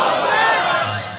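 A large crowd at an Islamic religious gathering shouts back in unison in response to the Nara-e-Takbir slogan, a loud, brief, massed roar of voices heard close and full.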